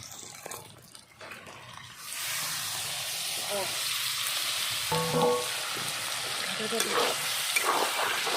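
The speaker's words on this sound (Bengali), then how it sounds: "মাংসগুলো দেখো অল্প ভাজা ভাজা হয়ে গেছে" Pork pieces fry in oil in a pan, quiet at first, then a loud steady sizzle and hiss builds after a couple of seconds, with occasional stirring clatter.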